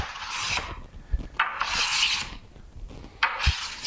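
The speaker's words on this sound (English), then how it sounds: "I've been using this board for every planing operation." A Norris-adjustment hand plane shaves a wooden board in three rasping strokes, each a close, bright scraping hiss separated by short pauses, with soft knocks as the plane is set down and lifted.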